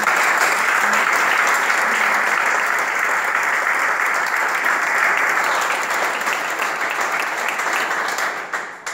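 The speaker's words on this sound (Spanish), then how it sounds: "Le pido un aplauso a la cooperativa." A hall audience applauds the public services cooperative at a mayor's speech, a dense, loud, sustained clapping that holds steady for the whole stretch and thins slightly at the very end.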